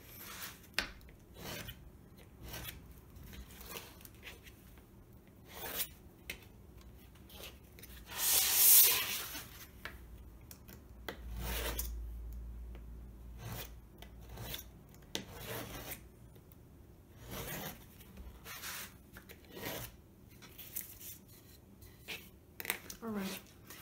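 Watercolour paper edges being trimmed by hand around a wooden cradled panel, a run of faint scraping, rasping cuts at uneven intervals, mostly quiet with one louder burst.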